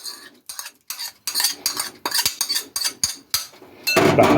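A spoon or whisk clatters rhythmically against a bowl while lemon juice, olive oil and garlic are mixed, about a dozen quick clinking strokes, close and crisp, ending in a louder scrape.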